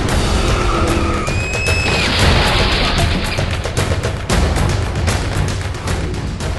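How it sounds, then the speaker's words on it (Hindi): Cars racing on an expressway skid with a sharp, rising tyre squeal near the start, followed by crashing impacts and a dense burst of rattling, clattering noise as three vehicles collide one after another, loud and close. "एक एक करके 3 गाड़ियों की टक्कर।"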